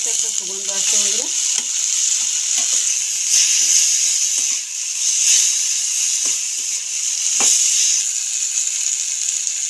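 Panch phoron spices sizzle loudly in hot oil in a pan, a dense, steady crackling hiss close up for a recipe of amra blossoms, with a brief voice near the start.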